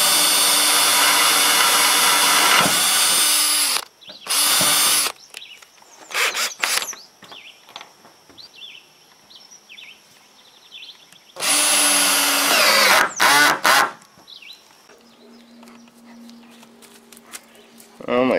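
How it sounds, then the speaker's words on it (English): A power drill whirs loudly in several bursts, long runs and short pulses, drilling holes in a trailer build, with someone talking quietly between them. "And I've been drilling lots of holes."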